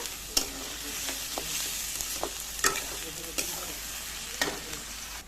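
Onions frying in a pan in a home kitchen until golden brown, a steady close sizzle running throughout with several sharp clinks of a stirring spoon against the pan.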